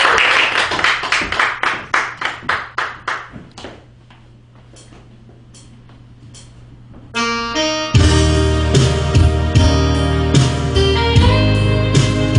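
Audience clapping at a live gospel praise concert, a burst of applause that thins out and fades over a few seconds before band music starts and fills the hall.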